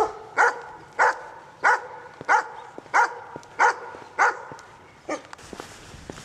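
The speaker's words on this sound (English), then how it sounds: "sometimes all we hear is that barking dog" A single dog barks nine times in a steady, evenly spaced rhythm, each bark loud and close, with a last softer yip and some faint shuffling at the end.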